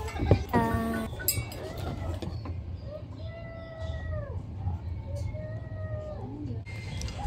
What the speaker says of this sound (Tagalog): Ito naman pusang to, paepal.